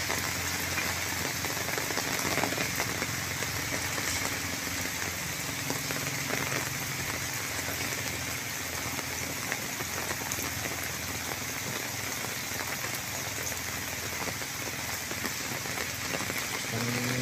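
Heavy typhoon rain on Burias Island pours steadily and loudly, a dense constant roar of drops drumming on surfaces nearby, with no voices.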